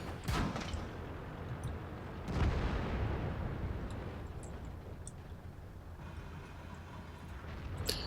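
Tank cannon fire and shell impacts in the World of Tanks video game: a loud blast near the start, a heavier boom around two seconds in, then a long rumbling decay.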